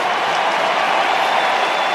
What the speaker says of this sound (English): Massive cheer from the Fremantle faithful